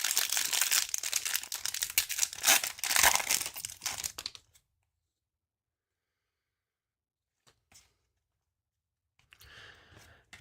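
Foil wrappers of Bowman baseball card packs crinkle and tear up close, a dense burst of loud crackling for several seconds, then near silence with a couple of brief rustles.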